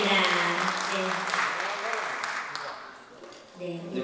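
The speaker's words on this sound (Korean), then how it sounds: "박수 부탁드립니다" Audience clapping at an outdoor song contest as a judge is introduced, a dense round of applause that gradually thins and fades while a host's voice carries on over it.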